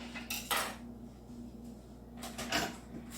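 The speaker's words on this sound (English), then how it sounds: "because I want you to see me stir it up, I'm going to do it this way" Coleslaw dressed with mayonnaise is stirred in a bowl, giving two short bursts of wet scraping and soft clinks against the bowl. Between them there is a quiet pause over a low steady hum. No one speaks.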